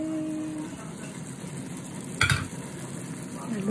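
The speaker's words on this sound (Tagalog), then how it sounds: "Haluhin natin ng konti." Shrimp and bitter gourd sizzle steadily in a hot pan, with a brief clatter of a spoon or spatula stirring partway through, close and moderately loud.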